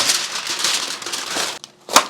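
Foil crinkles and crumples steadily as a rotisserie lamb is wrapped tightly for the oven. After a short pause comes one last sharp crinkle, and no voices are heard.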